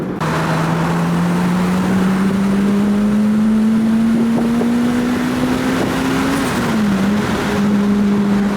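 A Toyota Celica GT-S Turbo runs on a dyno, a loud continuous engine drone whose pitch climbs steadily with revs, then drops briefly and settles. Wind-like hiss sits under the engine.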